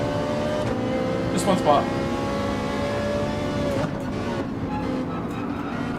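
A Ferrari 458 GR3 race car drones steadily at high revs around the Nürburgring in Gran Turismo 7, holding a sustained engine tone that dips briefly as a gear shift comes; a voice speaks over it.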